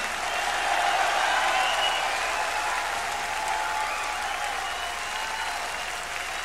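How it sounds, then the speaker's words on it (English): A live concert audience applauds, a dense, steady wash of clapping from a large crowd that holds strong for several seconds and then slowly eases off. "Would you please give them a hand of applause?"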